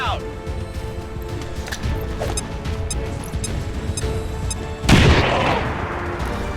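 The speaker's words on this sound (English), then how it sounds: "let's throw another grenade at the officer" A frag grenade goes off in a combat video game with a sharp, loud blast and a rumbling tail. Constant game noise with scattered pops comes before it.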